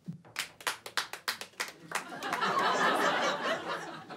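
A few sharp, separate claps open, then a comedy-club audience breaks into broader clapping mixed with scattered laughter, moderately loud and fairly close.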